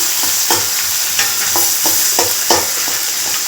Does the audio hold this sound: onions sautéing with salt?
yes